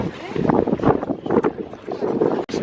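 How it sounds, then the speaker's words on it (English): Outdoor wind buffeting the microphone in Athens, a loud continuous rumbling roar with gusty swells, heavy throughout the short stretch. "If you can even hear me because of the wind."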